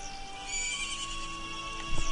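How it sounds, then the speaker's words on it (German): The foal Epona neighs in Zelda: Ocarina of Time, a clear, high whinny up close, followed by a soft hoof thud near the end, with no talk. "Ja, dieses Pferd, dieses Fohlen ist Epona"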